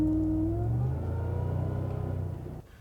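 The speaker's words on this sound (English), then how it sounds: "that Supercharger, of course, lets it whine" A supercharged Ford F-250 pickup truck engine revs loudly up close, pitch climbing with a rising supercharger whine before the throttle drops and the roar cuts sharply near the end.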